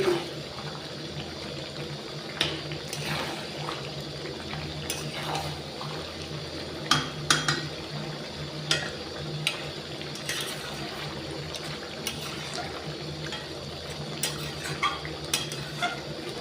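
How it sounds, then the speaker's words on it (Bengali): Chicken scraps frying with tomato in a pan, with a soft sizzle under repeated scraping and clinking of a metal spoon against the pan, irregular strokes at moderate distance, no talk. "আমি ভালো করে এটাকে কষে নিয়েছি তলায় একদম লেগে যাচ্ছে"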